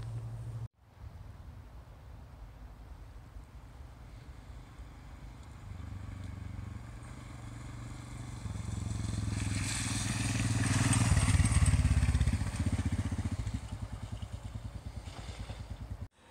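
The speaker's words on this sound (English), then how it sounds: "we've just got to the end of the first trail, riding the KLR650 and the Himalayan" A Royal Enfield Himalayan and a Kawasaki KLR650 ride an off-road trail, engines droning steadily and swelling louder as the bikes pass close, then easing off again, with gravel clatter beneath.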